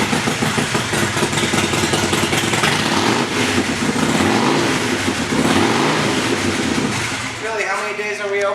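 A 2016 Harley-Davidson Dyna Low Rider S engine runs and revs at a dealership, loud and near for most of the stretch before easing off, with someone talking over it.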